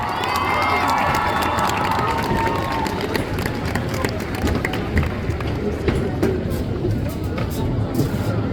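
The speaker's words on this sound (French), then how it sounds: "On l'applaudit bien fort." Spectators at the Japan Tours Festival cosplay contest clap and cheer as a cosplayer takes the stage, a loud, dense crowd roar with sharp handclaps and shouts, and a voice audible early on.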